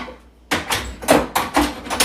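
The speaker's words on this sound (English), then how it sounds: "You can use a spatula to unstick a drawer." A spatula wiggled inside a stuck kitchen drawer, giving a rapid run of close wooden knocks and scraping rattles that starts abruptly after a quiet moment, with no talk.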